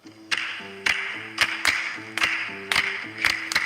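Rhythmic hand claps in a clappy drum-show piece called Unsquared Dance, sharp close claps falling in a syncopated pattern over a steady low tonal backing, with no voices.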